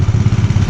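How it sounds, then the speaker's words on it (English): Gold dredge motor idling beside a river, a steady close mid-pitched engine drone with an even pulsing chug throughout and no talk. "The motor's only idling right there"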